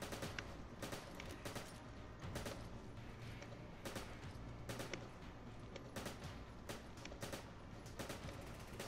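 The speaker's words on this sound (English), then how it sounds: "this guy that's shooting at me" Enemy gunfire in Resident Evil 5: a steady run of sharp shots, some in quick bursts, rattling over a dense, noisy game mix at moderate distance.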